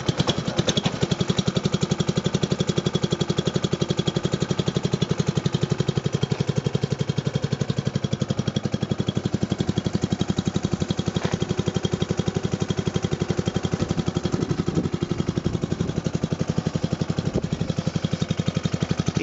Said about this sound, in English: Switch it on, a little bit of choke, turn on the fuel, and give it a pull start.